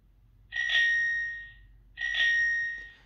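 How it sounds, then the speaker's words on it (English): Two bright, sustained rings from the bell on a Forth Bikes hire bike, each struck once about a second and a half apart, close and clear with no talk. "Now this is a bell."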